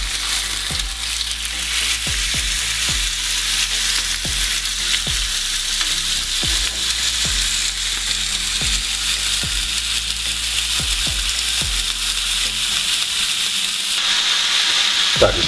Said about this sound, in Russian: Курицу жарим до полуготовности, буквально с каждой стороны по 2 минуты.